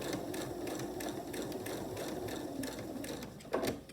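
A sewing machine with a quarter-inch presser foot stitches fabric at a quarter-inch seam for a Halloween hexagon table topper. Rapid, even mechanical stitching runs continuously at a soft level, with a small bump near the end.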